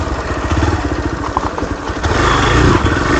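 A Hero Xpulse 200 motorcycle engine chugs loud and close while off-roading over a broken road, its throbbing pulse rising slightly as the throttle opens.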